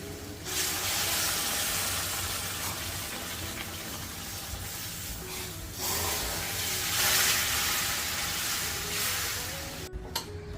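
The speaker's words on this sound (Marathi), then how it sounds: "गरम पाणी घालते तीन वाट्या पाणी घेतलं थोडं थोडं करून घालायचं आहे" Hot water is poured a little at a time into a pan of roasted semolina for upma, producing a loud hissing, bubbling steam burst that swells and eases in waves, ending with a brief clatter.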